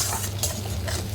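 Egg being stir-fried for chowmein in a pan: a steady sizzle under repeated utensil scrapes and clinks against the metal, close and fairly loud.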